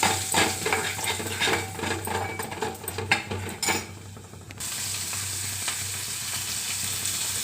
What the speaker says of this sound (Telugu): ఇందులో ఆలుగడ్డ, ఉల్లిపాయ, పచ్చిమిరపకాయలు, కరివేపాకు వేసుకున్నాను. ఇవి కొద్దిగా వేగితే చాలు